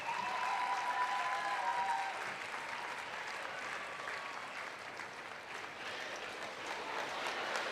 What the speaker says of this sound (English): please keep the applause going for the retiring best of breed winners in the Hound group